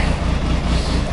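A cold Triumph Tiger 955i motorcycle engine, suspected of damage, ticks over while warming up, giving a loud, close, continuous low throb with a rapid pulsing rhythm.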